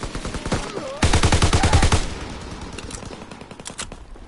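Rapid bursts of automatic and single-shot gunfire in Call of Duty WWII beta, a loud run of close shots followed by fainter scattered fire.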